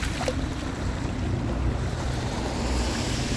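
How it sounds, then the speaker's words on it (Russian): Floodwater after heavy rain gushes out of a well in Goryachy Klyuch, Krasnodar region: a steady, loud rushing wash of water mixed with wind buffeting on the microphone, with no talking. "Так, откуда-то прет водичка вон там."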